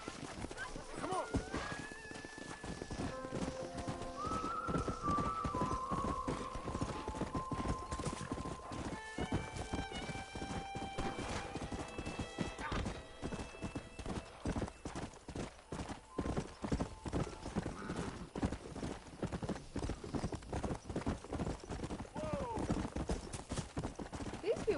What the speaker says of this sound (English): These people ride their horses crazy.